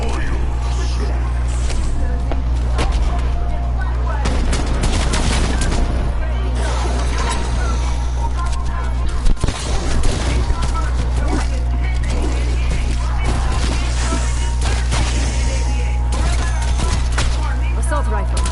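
Assault rifle gunfire in a Call of Duty zombies game, dense bursts of shots and booms over a steady low rumble, loud and continuous.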